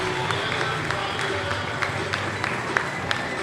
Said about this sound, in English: you will hear a roar here from the Pirates fans